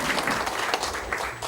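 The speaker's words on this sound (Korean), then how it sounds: "다시 한번 우리 정희철 목사님 박수 한번 쳐주시기 바랍니다." Church audience applauding a pastor at a Reformed faith seminar, a dense burst of clapping throughout, fairly close and busy.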